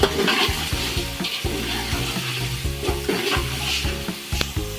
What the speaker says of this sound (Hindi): चिकन को भूनते हुए यहाँ पे मुझे 5 मिनट हो चुके हैं